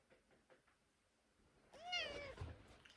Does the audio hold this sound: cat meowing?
yes